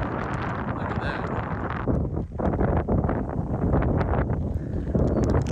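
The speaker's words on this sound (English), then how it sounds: "It is absolutely just too windy to use this because the line's being pulled all different directions." Strong wind roars and buffets the microphone during bass fishing from a boat, a loud continuous rushing that gusts unevenly from start to finish.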